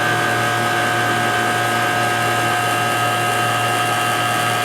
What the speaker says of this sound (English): when you first turn the vacuum pump on, what do you get?